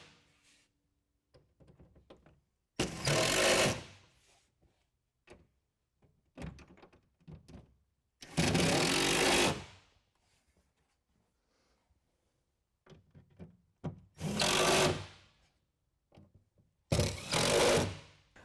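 A power tool drives and tightens bolts on the rail of a BAK Revolver X4s tonneau cover fitted to a 2022 Toyota Tundra. Four loud whirring bursts of one to two seconds are separated by small clicks and handling knocks.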